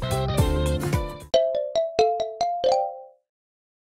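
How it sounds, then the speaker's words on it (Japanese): A phone ringtone plays a bright melodic electronic jingle, first a busy chord-laden phrase, then a run of clean separate beeping notes that stops in silence. "あ、電話？ 誰のだろう？ どこから鳴ってる？"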